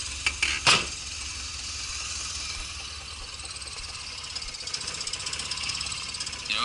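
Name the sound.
car engine idling roughly and dying with engine leak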